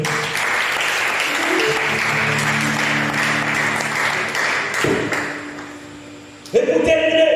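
A large crowd at a church convention applauds to acclaim the Lord, steady loud clapping sustained for several seconds with sung or spoken voices and music mixed in, then a sudden louder burst at the end.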